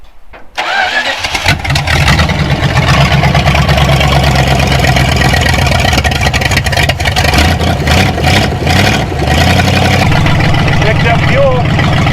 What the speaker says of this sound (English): So we're gonna give it a little gas and fire it up.